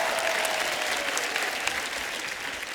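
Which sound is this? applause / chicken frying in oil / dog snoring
applause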